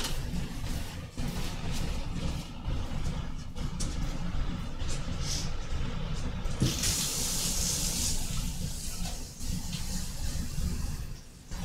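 Tap water runs steadily into a sink while an item used for waxed paper batik with alcohol inks is rinsed out. The flow is close and continuous, and the splashing brightens partway through. No one speaks.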